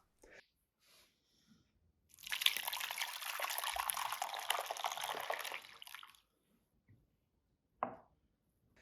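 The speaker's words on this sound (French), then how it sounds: "Versez la préparation dans des ramequins ou dans un bol en vitre haut avec des rebords épais." Milk and egg mixture pours steadily into ramekins for several seconds, a soft close-up liquid stream with a faint clink before and a brief knock afterward.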